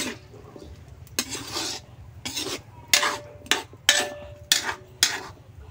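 Rhythmic scraping and clinking of a spoon stirring in a metal pot, in repeated short strokes up close, with no talking.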